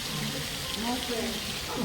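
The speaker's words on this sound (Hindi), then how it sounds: "एठी देखो पानी पड़ती देखो" Water falls steadily near a Radha Krishna temple, a continuous close hissing splash that fills the short stretch evenly, with faint voices mixed underneath.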